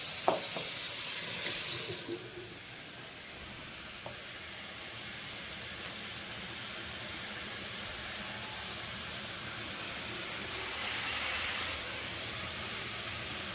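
A kitchen tap pours hard at first while soybeans are washed under it, then eases to a steadier, quieter stream of running water that swells again briefly near the end.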